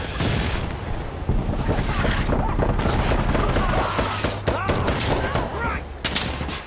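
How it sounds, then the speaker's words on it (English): Heavy machine gun fire in the Insurgency: Sandstorm game, dense and continuous, with rapid bursts and booming shots in a chaotic firefight, loud throughout alongside other battle noise. "And they've got a heavy machine gun as well."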